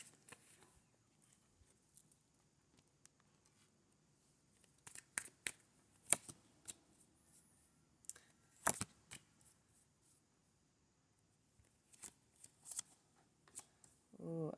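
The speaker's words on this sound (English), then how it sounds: "I'll let you meditate on that as I shuffle this deck." A tarot deck is shuffled by hand close by, with soft papery riffles and taps coming in scattered bursts, quiet overall, among long near-silent gaps.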